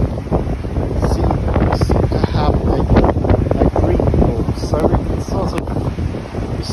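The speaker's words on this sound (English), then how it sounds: "sort of see quite a bit of waves crashing, quite a rough, turbulent sea at the moment" Rough, turbulent sea at Porthleven near high tide, with waves crashing under a strong gusting wind that buffets the microphone. The roar is loud and continuous, and some faint voice may sit underneath.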